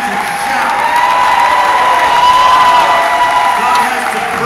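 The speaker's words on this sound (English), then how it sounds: "Somebody clap your hands and shout" A church congregation claps and shouts in praise, a loud continuous crowd roar of cheering voices and clapping with a sustained vocal whoop running through it.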